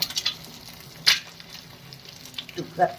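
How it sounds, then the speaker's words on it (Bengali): Eggs frying in a pan for breakfast give a faint, low sizzle, with a brief clatter near the start and a short voice toward the end. "একটু অন্যরকমভাবে ডিম ভাজবো"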